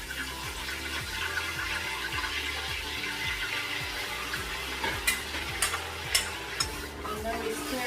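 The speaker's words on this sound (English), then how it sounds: "And then we stir it." Beef stew in a pot is stirred with a rhythmic series of scraping strokes over a constant sizzling bubble, close up, with a few sharper clinks toward the end.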